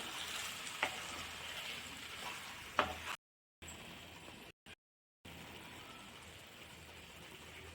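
Egg curry masala stirred into a tomato and egg curry in a pan: a soft, steady sizzle with two brief scrapes of the spoon, broken by short silent gaps.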